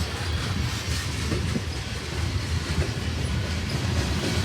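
CSX freight train rolling past on rails, a steady close rumble of wheels with rhythmic clacking, continuous and loud throughout with no talking.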